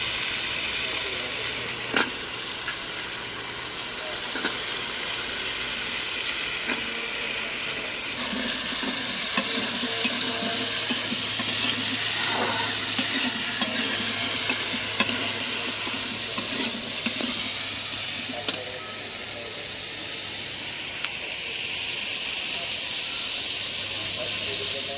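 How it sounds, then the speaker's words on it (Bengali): Potatoes and onions sizzle and hiss steadily in an outdoor pan, a continuous close frying crackle with occasional stirring clinks and scrapes, no voices over it. "দিয়ে দিলাম আলু, পেঁয়াজের সাথে আলুটা ভেজে নেব"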